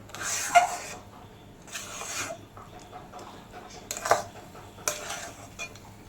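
A mango barfi mixture with melting sugar is stirred in a pan over medium flame, with repeated scraping and rubbing strokes of a utensil against the metal in bursts of about a second, close and fairly loud.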